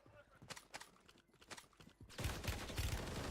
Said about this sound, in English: I'm getting sniped at from deep.